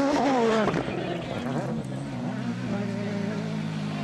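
A Ford Fiesta rally car drives hard on a rough gravel stage at the Acropolis Rally. The engine revs loudly and changes pitch, with a commentator talking over it.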